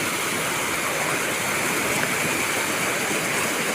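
Water pours steadily out of a cave mouth, a loud, continuous rushing like a small waterfall that stays even and close throughout, with no voices over it.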